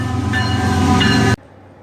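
A GE Evolution (GEVO) locomotive hauling an intermodal train gives a loud, close, sustained horn blast with a deep engine rumble beneath, cutting off sharply before a second of quiet.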